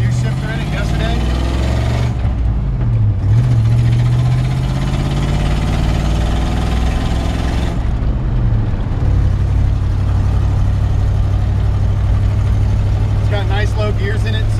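Flathead engine of a 1951 Ford F1 shortbed pickup with a three-speed floor shifter, droning steadily as it cruises at about 50 mph, a low continuous rumble with road noise throughout.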